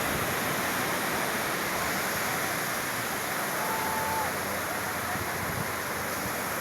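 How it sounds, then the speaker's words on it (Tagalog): Steady, broad roar of strong surf on the beach at Baler fills the whole clip, a constant wash of breaking waves with no pauses. "nakita nyo, malakas po alon"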